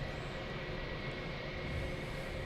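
At Boston Logan Airport, a plane taxiing produces a steady broadband engine rumble and hiss with a faint whine, heard at a distance and continuous throughout.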